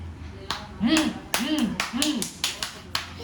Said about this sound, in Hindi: हाँ ताली बजा दो।